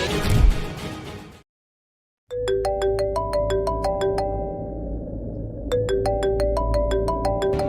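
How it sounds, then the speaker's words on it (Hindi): A phone ringtone plays a bright repeating melody of chiming notes over a low hum, pauses, then starts again loudly. "क्या मैं ये फोन उठाऊं?"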